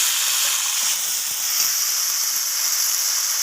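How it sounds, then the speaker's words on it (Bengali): Soaked raw chickpeas frying in a pan while being stirred for a vegetarian banana-flower dalna. The sizzle and hiss are close, steady and continuous, with no voices. "ছোলাটাকে নাড়াচাড়া করে আমি ভেজে নিচ্ছি"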